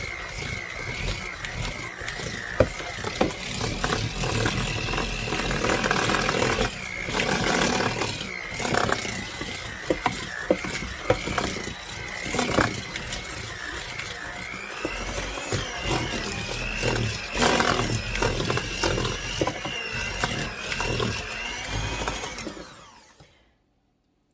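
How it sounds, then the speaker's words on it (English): An electric mixer beats lemon pound cake batter, a loud continuous whirring motor with a steady whine and fluctuating load, running close and alone for most of the clip before cutting off abruptly. "So now we're going to beat that up really quick."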